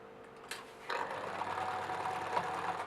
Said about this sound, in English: let's move on to our sewing machine